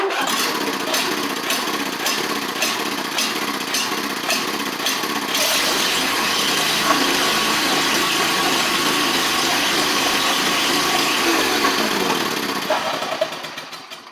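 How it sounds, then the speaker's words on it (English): A replacement MyMROmarts starter cranks a lawn mower engine after a flywheel change, a rapid rhythmic chugging that catches and settles into a loud, steady engine roar held close for about eight seconds before winding down. "I do want to show y'all how well this MyMROmarts starter works now"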